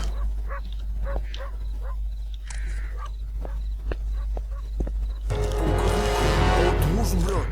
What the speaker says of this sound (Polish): Psy jakieś słyszę, także będzie nieciekawie.